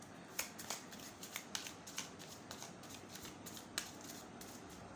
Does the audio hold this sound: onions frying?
no